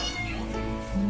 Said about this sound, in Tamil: பூனை குட்டி போகுது.